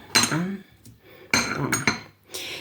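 Dishes and cutlery being lifted out of a kitchen cupboard, with a few close clinks and clatters in short bursts while someone talks over them.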